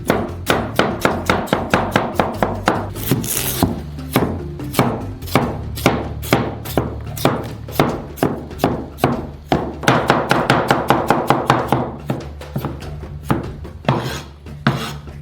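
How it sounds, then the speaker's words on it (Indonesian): Clean potatoes are cut into pieces with a knife, a long run of crisp, rapid chops against a cutting board, loud and close, in quick bursts with brief pauses between runs. "Potong-potong kentang bersih menjadi beberapa bagian."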